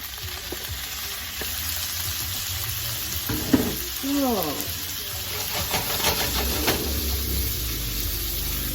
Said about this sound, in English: Then we're gonna go ahead and add our string beans.